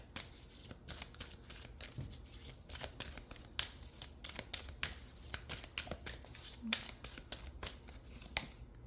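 Angel Answers oracle cards being shuffled by hand, a steady dense flutter of papery riffles and slaps running continuously and close, with faint background noise and no clear talking.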